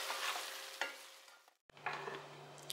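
A spatula tosses seafood stir-fry noodles in a pan, giving soft clinks and shuffling scrapes over a faint sizzle. The sound is quiet and close, with a brief dropout partway through.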